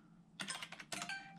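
Rapid clicking of computer keyboard keys in two close, brisk bursts separated by a short pause, with a quiet hum between them.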